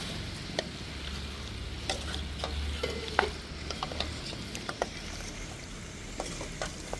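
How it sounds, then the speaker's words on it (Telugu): Chicken fry piece biryani masala with added spice powder being stirred in a pan, steady sizzling under repeated scraping and clinking strokes of a spoon, close and moderately loud with no voices. "ఇప్పుడు మొత్తం ఒకసారి కలిపేసుకుందాం."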